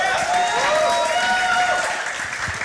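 Audience applause at a LANcouver 2013 gaming awards ceremony for the StarCraft 2 top three, a steady wash of clapping with some tonal music or feedback lines running through it, no speech over it.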